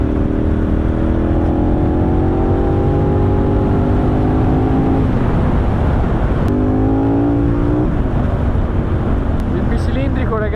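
KTM 1290 Super Adventure S motorcycle with an Akrapovic exhaust, loud continuous engine roar with rising revs that drop and climb again, heard close up and alone.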